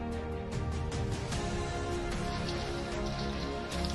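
Rain falls steadily at a bridge construction site, a dense, even patter of drops hitting surfaces for the whole stretch. It is loud and close, with no voices.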